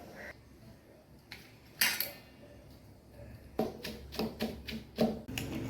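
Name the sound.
crushing grated coconut, curry leaves and garlic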